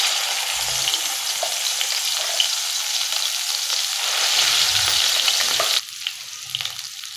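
Ground masala paste sizzles in hot oil over a low flame for a mutton curry, a steady crackling hiss with occasional scraping stirs and a quieter stretch near the end.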